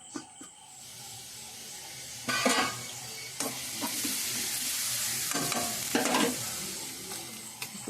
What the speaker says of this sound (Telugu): ఇప్పుడు ఉల్లిపాయ వేగిపోయింది.